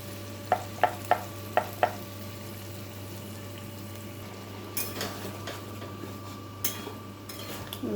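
Spice paste for rohu fish kalia fries in a pan with a soft steady sizzle, punctuated early by several sharp spoon taps against the pan and later by a few scraping stirs.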